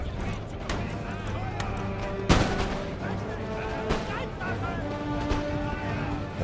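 Musket volleys crackle in an Empire: Total War battle with Prussian line infantry, a loud burst of massed fire near the middle and scattered shots throughout over a steady rumbling battlefield din, with a voice talking over it.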